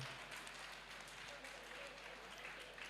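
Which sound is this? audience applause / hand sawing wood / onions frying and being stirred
audience applause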